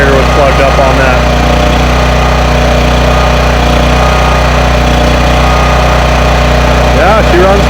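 A Husky portable generator engine runs steadily at close range, a loud, continuous mid-pitched drone with a constant hum and no breaks.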